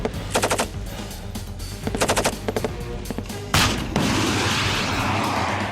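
Rapid bursts of gunfire from an L96 sniper rifle and an LMG light machine gun used by the Grenadier Guards, with three loud rattling volleys followed by a heavy crack and a sustained roar, no talk.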